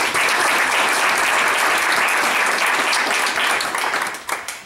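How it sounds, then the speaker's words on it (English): An audience at a board of education meeting breaks into a warm round of applause, dense steady clapping from many hands that runs for several seconds before tapering off. "a big round of applause for Mrs. Jordan."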